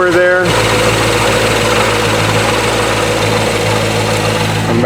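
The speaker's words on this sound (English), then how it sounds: "You can hear a little bit of the blower there." A C7 Corvette idles with a Magnuson TVS2650 supercharger fitted, giving a loud steady engine drone with a faint blower whine in it. A voice briefly speaks at the start.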